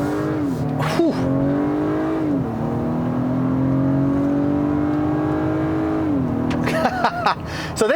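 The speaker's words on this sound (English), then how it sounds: "this car really has a much more visceral sound versus the Volvo. The engine is so vocal." A 2019 Acura RDX engine in Sport Plus mode rises and holds a strong, vocal drone under acceleration, with gear-change dips and quick revving near the end, heard from inside the cabin.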